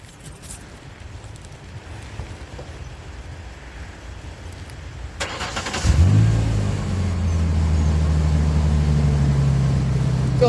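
A truck or car engine after a Kool Blue air filter replacement idles low and rumbly. It then revs up sharply and settles into a steady, louder hum, heard close with no talk.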